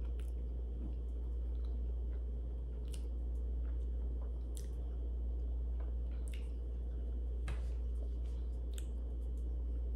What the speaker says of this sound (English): Oh, I like the pepita crunch.